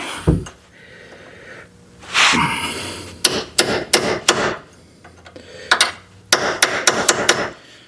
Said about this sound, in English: now I got to get a punch, and we got to get those pieces of cotter pin out